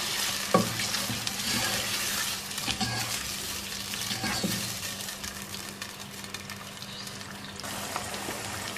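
Beaten yogurt is stirred into chicken aloo shorba cooking in a pot, with a continuous close sizzle and bubbling broken by scraping stirs and occasional soft knocks of a spoon.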